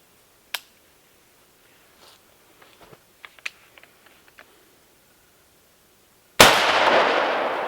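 A 20 gauge shotgun loaded with 3-inch, 1500-velocity number 4 shot fires at a water bottle 25 yards away. A sharp click and a few faint ticks come first, then a loud, harsh blast near the end whose noise lingers. No one speaks.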